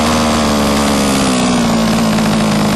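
A small engine on a Baja vehicle idles just after a low-end fuel adjustment, a loud, steady buzzing drone with a fixed pitch, close by and alone.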